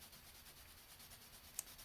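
Faint, rhythmic scratching of a colored pencil stroking back and forth across adult coloring paper, very close and quiet, with a tiny tap near the end.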